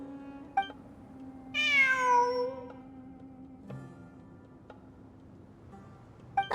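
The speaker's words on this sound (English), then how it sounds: "It really is a cat." A cat in the game Genshin Impact gives a single clear, drawn-out meow, close and prominent, set against a quiet ambient hum with a few soft ticking clicks and no speech.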